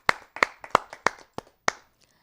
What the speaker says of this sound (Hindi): उनका हम जोरदार तालियों से स्वागत करते हैं